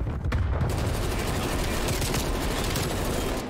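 Gunfire in Call of Duty Black Ops Cold War sounds as a steady, close burst of rapid automatic shots, loud and continuous, with a sharp crack near the start.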